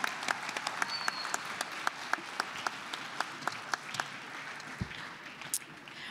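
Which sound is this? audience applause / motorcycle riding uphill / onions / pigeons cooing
audience applause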